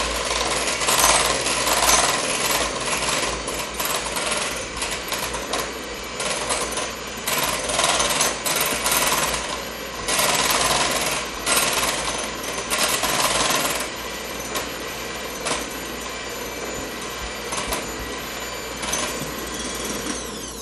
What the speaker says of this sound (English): We'll beat this until it's nice and frothy.